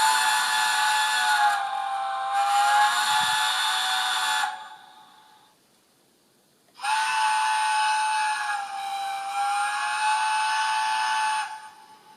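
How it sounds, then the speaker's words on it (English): A model train TTS sound decoder plays a long whistle-like chime through an iPhone speaker. Two loud, sustained blasts are separated by a brief pause, each bright and steady with a faint hiss. "So let's do the long chime first."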